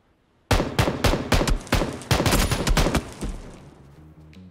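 A rapid string of gunshots in PUBG rings out loud and close: about a dozen sharp cracks in quick succession, then the firing stops and a quieter tail of game sound follows.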